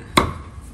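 A knife strikes a board once while mincing meat for chả lá mơ, a single sharp, close chop followed by quiet.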